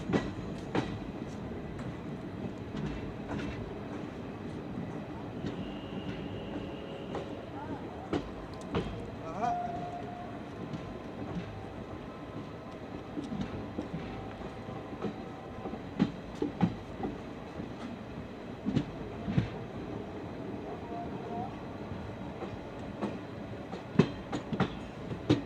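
Azamgarh Weekly Express, a passenger train running from Kolkata to Azamgarh, rumbles steadily between stations, with continuous low rolling noise, faint rhythmic wheel clatter and occasional sharp clicks and squeaks throughout, carrying no voices.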